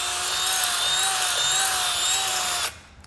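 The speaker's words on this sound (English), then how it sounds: "we're going to grab the drill and ream the hole" A power drill reams a hole in scrap metal during a high school shop project making a metal rose, giving a steady, close, high-pitched whine that runs about two and a half seconds and then cuts off abruptly.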